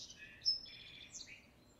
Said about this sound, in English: you start to get familiar with its song, you'll start to recognize it